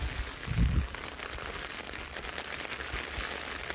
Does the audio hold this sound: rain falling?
yes